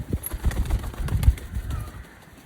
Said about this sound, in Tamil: என்ன புறா பறக்கதை பார்க்குறியா?